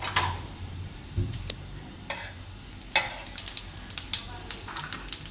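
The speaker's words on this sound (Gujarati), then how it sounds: "અજમાનો વઘાર કરશું." Ajwain (carom seeds) tempering in hot oil, giving a light crackly sizzle with scattered pops and clicks, plus a few utensil knocks near the start.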